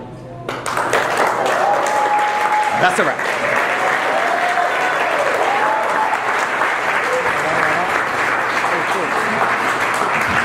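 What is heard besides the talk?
wedding guests applauding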